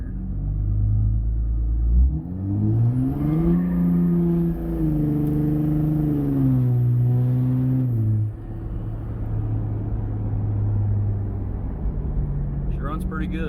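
A 1993 Honda Del Sol on stock tires drives past, its engine rumbling loud and close and then rising in pitch as it revs and accelerates over several seconds before settling into a steady lower drone.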